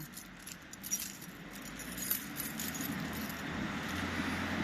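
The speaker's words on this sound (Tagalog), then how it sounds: "ito po yung dami kong susi oh" Large bunch of house keys jangling in a hand, light metallic clinks in short bursts over a steady low background hum, fairly faint and close.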